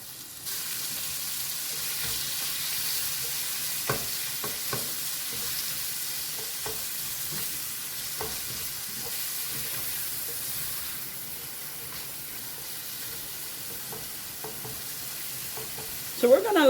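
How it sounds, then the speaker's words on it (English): Bacon frying in a pan, a steady close sizzle and hiss throughout with occasional scrapes and clacks as it is stirred and turned. "So we're going to let this bacon cook until it gets nice and brown."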